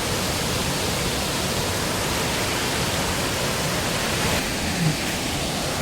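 Devkund waterfall near the Maa Ambika shrine in Odisha pours in a strong flow, a steady, dense roar of falling water with no voices.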